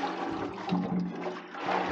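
WD-40 rust remover sloshes and swirls inside a Massey Ferguson 231 tractor gas tank as it is shaken, a continuous close liquid churning with no talk.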